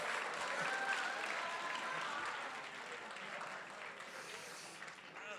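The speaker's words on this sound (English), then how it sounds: "Why are you cheering?" Audience at a high school poetry slam cheering and applauding, a sustained crowd roar with clapping that slowly fades over several seconds.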